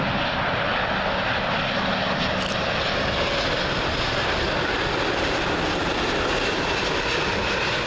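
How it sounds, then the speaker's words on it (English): A British Airways Airbus A350 on its arrival into Heathrow runway 27L gives a loud, steady broadband engine roar that fills the whole stretch, close overhead with no voices. "it was an A350"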